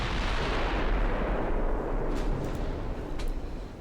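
Warship guns in a British naval battle game fire as a continuous, rumbling barrage of booms and rolling blasts, loud and heavy throughout, with no talk over it.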